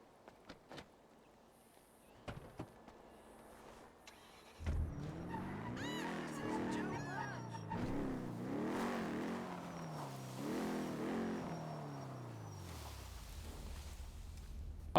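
A car in a NoPixel GTA roleplay game starts up and drives, its engine rising and falling steadily as it revs and shifts, with faint clicks beforehand and no talk.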